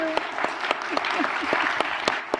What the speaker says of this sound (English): would please give a big round of applause to Dock and Roll Film Festival